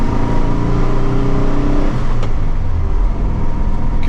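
A 1964 VW Beetle with a 1600cc dual port engine accelerating hard in second gear, a loud, close, rising engine drone with steady harmonic tones that climb in pitch before easing off.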